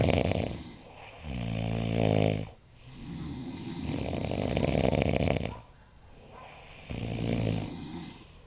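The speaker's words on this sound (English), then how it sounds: "time lapse of the snoring" Loud, rasping snores repeat in long drawn-out cycles, each rumbling breath separated by brief quiet pauses, close by with no talking.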